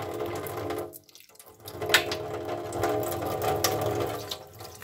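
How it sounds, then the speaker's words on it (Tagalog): A tap runs while something is washed, giving a steady close rush of water that briefly cuts out near the start, then resumes with splashes and small knocks, with no speech. "At hugasan ko lang itong..."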